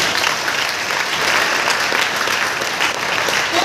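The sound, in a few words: audience applause at a business seminar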